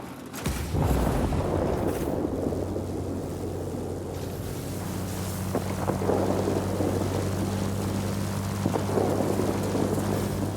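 Steady propeller-engine drone of a fixed-wing warplane in World of Warplanes, a loud continuous hum with a low tonal buzz running throughout, joined by rumbling bursts and wind-like noise, with no talk.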